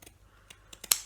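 Small scissors snipping notches around a small fabric circle, a few quiet, sparse clicks ending in one sharper cut, close and soft with no talking.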